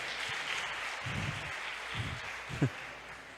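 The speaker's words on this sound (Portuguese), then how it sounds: "aplaude o Senhor Jesus." A church congregation claps and applauds during a worship service, a steady, moderately loud wash of clapping with a few low thumps, and no talking.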